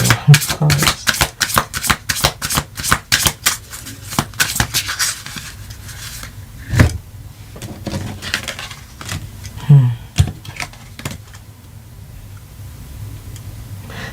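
A tarot card deck is shuffled close up, a fast run of crisp riffling flicks that slows into scattered taps and slides, with a voice speaking briefly.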